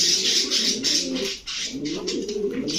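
Giribaz racing pigeons in a shop cooing close by, a series of throaty, pulsing coos over a breathy background hiss, with no talking.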